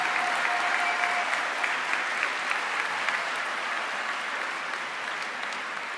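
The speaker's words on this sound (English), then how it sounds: "give them a round of applause for all they've done to support you along the way" A graduation audience at West Scranton High School applauds steadily and loudly throughout, a dense, sustained wash of many hands clapping together in a large room.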